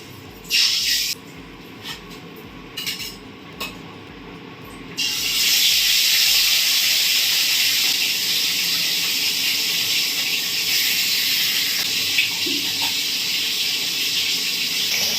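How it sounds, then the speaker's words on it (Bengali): After some light kitchen clatter, fish dropped into a hot frying pan set off a loud, continuous hiss and sizzle that holds steady, with no talking. "আমি আপাতত এখন এই মাছগুলো ভেজে নিয়ে চলো"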